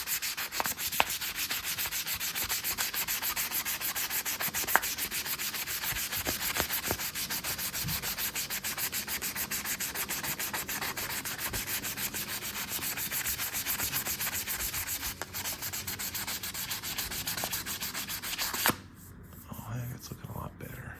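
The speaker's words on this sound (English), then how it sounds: "I'm going to keep sanding in the same direction with the idea that maybe that'll make it easier to buff out instead of having swirly marks in it." A car horn button sanded by hand with 800 grit sandpaper, a fast, steady rhythmic rubbing scrape close to the microphone for most of the clip, stopping abruptly near the end.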